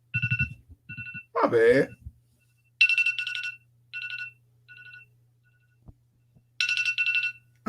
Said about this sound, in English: I don't know what's going on with my phone.